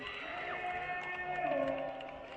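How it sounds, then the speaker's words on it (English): A Bend Elks baseball crowd giving a mocking, Bronx-style cheer after a strike, a sustained collective whoop of many voices rising and falling together, moderately distant, with some individual voices poking through. "This Bend Elks crowd cheering, slight hint of a mock or Bronx kind of cheer for the strike being thrown."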